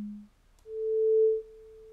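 A synthesizer key press with a default ADSR envelope: a single steady pure sine tone swells in, holds briefly at full level, then drops to a quieter sustained pitch, alone with no other sound.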